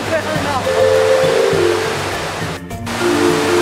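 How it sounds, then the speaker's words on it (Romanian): Steady broadband rush of Golitha Falls waterfall in Cornwall, a loud close continuous roar, with a dog whining over it and a brief burst of wind noise. "La cascadă."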